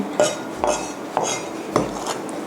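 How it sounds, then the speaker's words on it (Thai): Garden bird's eye chilies chopped coarsely with a knife on a board: four evenly spaced sharp knocks in a steady rhythm, close and fairly loud, with no talking. "สับพริกขี้หนูสวนนะคะ ให้พอหยาบแบบนี้"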